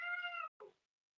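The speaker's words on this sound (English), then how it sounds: "I think it's my cat." A pet cat gives one long, clear meow, followed after a short pause by a briefer, softer second call, close and alone in a quiet room.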